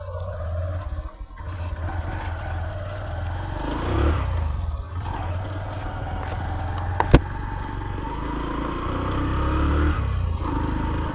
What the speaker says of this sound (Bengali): চলেন বাইকটা নিয়ে একটু রাইড করি